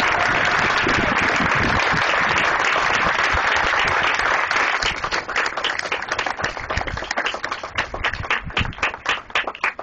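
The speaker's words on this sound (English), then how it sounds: "Let's everyone else give them a massive round of applause." A crowd at a ribbon cutting for a Saint Bernard Project house applauds the staff, with loud, dense clapping throughout that thins into more distinct individual claps toward the end.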